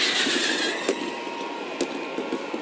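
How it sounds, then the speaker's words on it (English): Fizzing fireworks sound effect, a continuous bright hiss with a few sharp crackling pops scattered through it, alone without talk. "There was singing and dancing, cake and ice cream, and fantastic fizzing fireworks."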